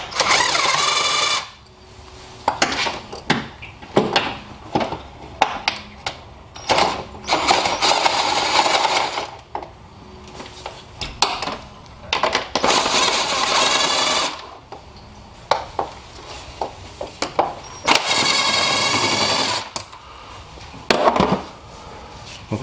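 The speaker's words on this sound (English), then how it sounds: "I'm going to go ahead and loosen up the 4 8mm screws now." A power driver loosens four 8mm screws on a Honda J-series air filter lid in repeated loud, close whirring bursts, each a few seconds long and split by short pauses with small clicks and handling noises.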